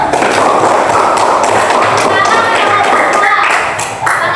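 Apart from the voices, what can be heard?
students clapping hands one by one in classroom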